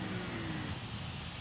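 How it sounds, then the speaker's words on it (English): A pickup truck towing a 40-foot trailer gives off a loud, steady turbo whoosh over a dense engine rumble, heard up close for a brief moment with no speech. "Listen to that turbo noise."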